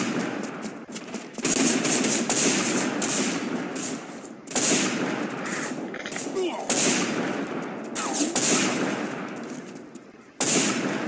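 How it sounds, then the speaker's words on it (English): Gunfire rattles almost without pause in the first-person shooter Line of Sight, with loud bursts of automatic fire and single shots close by and brief gaps between volleys. "Exchanging fire!"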